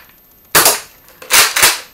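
A Nerf toy gun firing, one sharp close snap followed a moment later by two more quick pops in a row, loud against a quiet background.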